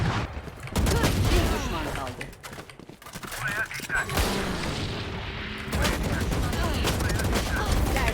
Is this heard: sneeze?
no